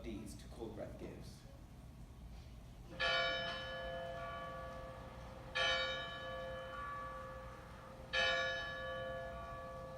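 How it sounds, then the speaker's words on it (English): During a stage performance of Macbeth, a deep bell tolls three times at even intervals, each strike ringing out and slowly fading, after a brief voice at the start. "The bell invites me."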